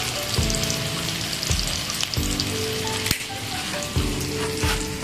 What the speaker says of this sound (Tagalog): And then basil leaves. Lagyan natin. Dagdag pa ng paprika.